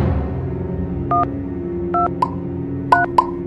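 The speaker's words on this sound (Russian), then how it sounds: "я звоню в полицию" A phone keypad dials a call to the police, giving a series of separate DTMF tone beeps at an uneven pace, some short and some held longer, over a steady low background hum.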